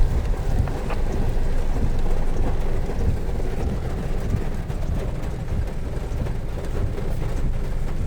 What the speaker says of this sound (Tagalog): Patila na lang muna tayo ng ulan. Ang lakas-lakas, di makababa.